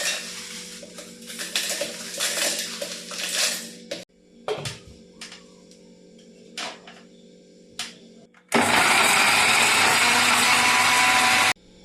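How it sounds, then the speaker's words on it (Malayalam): A kitchen mixer grinder grinds urad dal and chillies. Scattered clattering and handling noises come first, then the motor roars in at full volume as a loud, steady whir that runs to the end. "മിക്സിയിൽ നമുക്ക് പൊടിച്ചെടുക്കാം"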